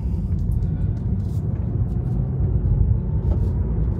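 A 2023 Tesla Model 3 being driven, a steady low road rumble and cabin hum heard from inside the car, even and continuous with no talk.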